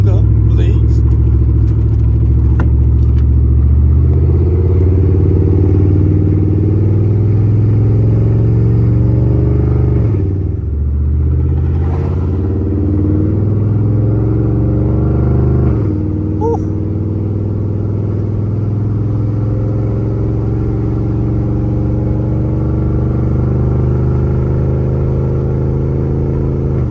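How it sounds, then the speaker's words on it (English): A V8 crew cab OBS truck with a True Dual catback exhaust rumbles loudly and steadily, its deep engine note swelling in revs with a brief dip partway through, while a person talks over it. "True Dual catbacks are the best exhaust that you can put on any truck that's a V8"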